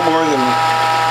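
A Whole Health Foundation juicer's press squeezing black grapes gives a steady, close mechanical whine with layered tones, and a brief falling note sweeps down in the first half-second.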